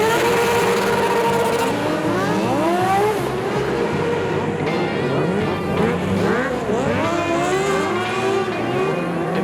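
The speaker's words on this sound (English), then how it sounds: "those stunt boys with their stretched out street bikes as they impressively powered around the track" Stretched-out street bikes race around a flat track, engines revving and rising and falling in pitch as they power past, loud and close with a steady roar throughout.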